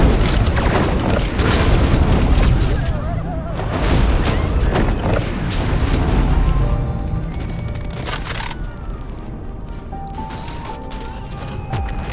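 Gunfire and explosions in the video game Love and Deepspace, with repeated heavy booms and rapid bursts of shots, loud and dense throughout.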